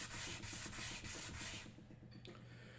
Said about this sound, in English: So I'm just taking, this is 400 grit sandpaper.